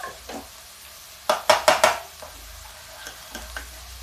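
Khoya and rice flour mixed in a pan for kheer: a cluster of loud scraping spoon strokes in the middle, with quieter stirring and faint sizzling before and after.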